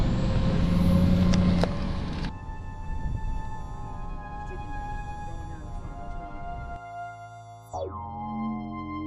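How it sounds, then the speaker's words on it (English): A car drives along a road with a loud engine rumble and road noise that drops in level partway through, then shifts with tonal whines and a falling pitch sweep near the end. "We got a car right behind us."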